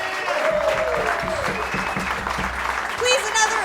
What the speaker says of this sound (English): Please, another round of applause for Caffe.